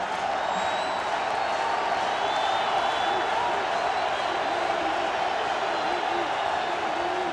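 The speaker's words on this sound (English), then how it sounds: "The crowd alive in Seattle." A football stadium crowd in Seattle roars as Washington's Huskies host BYU, a broad, sustained wash of cheering and applause heard at a distance, steady from start to finish with no clear individual voices.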